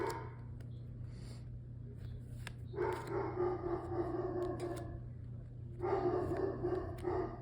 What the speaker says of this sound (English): there's barking outside